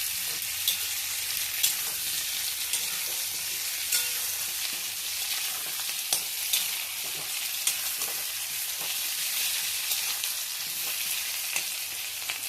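Poppy seed paste with turmeric sizzles and fries steadily in a pan, a continuous bright hiss broken by soft scrapes and taps of stirring, with no talking.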